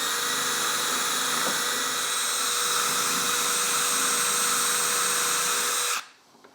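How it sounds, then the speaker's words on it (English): A steady, high-pitched power drill whines continuously for about six seconds at close range while drilling a locating hole for cabinet drawer slides, then stops abruptly. "this will allow you to perfectly locate where you need to drill that locating hole"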